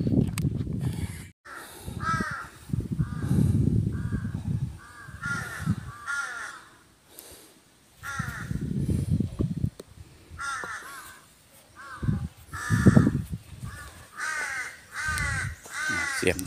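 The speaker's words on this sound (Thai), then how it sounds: "เสียงกาเสียงนก" Crows caw repeatedly around the hilltop Phanom Rung temple in Buriram on a quiet morning, with loud, near calls in clusters and fainter answering caws between them.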